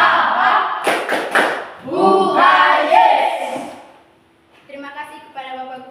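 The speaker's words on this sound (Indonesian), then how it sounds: "Tepuk semangat." A group of eighth-grade students in a classroom performs a spirit clapping cheer, with a few sharp claps mixed into loud chanted voices that rise and fall in a short rhythmic routine.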